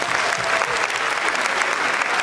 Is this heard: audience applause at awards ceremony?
yes